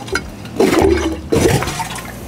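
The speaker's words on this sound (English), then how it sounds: "I'm even just going to take this out to release the water from in here" Water drains and gushes out of a fish tank container after the pump is switched off, in two loud splashing surges with a brief lull between them and no talk.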